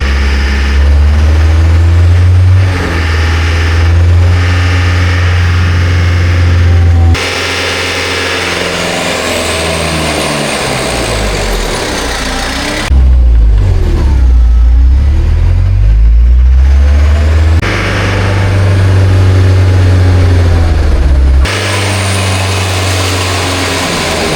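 A diesel ATV engine with a freshly adjusted turbo wastegate actuator runs close and loud, switching between steady idle and strong revving bursts over about twenty-four seconds, with no voices.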